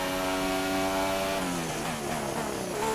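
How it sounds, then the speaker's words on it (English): A Formula 1 car braking in the F1 2016 racing game at Bahrain: a loud, continuous buzzing engine tone holds steady, then its pitch drops and wavers as the car slows, with no talk. "the sound when I brake with this car"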